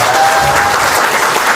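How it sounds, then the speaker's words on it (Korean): A crowd at a Korean political party members' meeting in a Daejeon cultural hall claps loudly and steadily in a brief burst of applause. "박수 쳐주세요."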